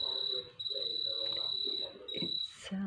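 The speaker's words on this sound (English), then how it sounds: "almost like crickets, but" A single high-pitched, cricket-like tone chirps almost continuously, fairly faint but steady, briefly dropping out before returning, with low background noise and faint murmuring underneath.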